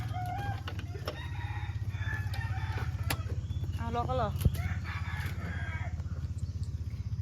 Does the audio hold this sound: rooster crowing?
yes